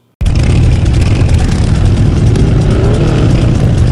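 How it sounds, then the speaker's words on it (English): A loud, deep V-twin motorcycle engine roars steadily and close by, with a rumbling low throb that holds from start to finish. "The roar of a V-twin, it's music to our ears."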